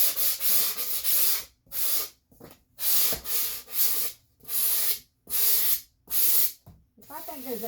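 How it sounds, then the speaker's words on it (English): Wood being hand-sanded on its back side during a porch project: repeated back-and-forth scraping strokes in a steady rhythm, loud and close, with brief pauses between passes. "Sand down the back. Because I want that to be smooth."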